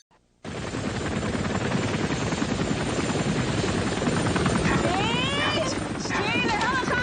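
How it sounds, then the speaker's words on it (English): Helicopters in the film Short Cuts thunder overhead in a loud, continuous rotor roar, joined toward the end by shouted voices and whistle-like sweeping tones. "Steve, the helicopters are here!"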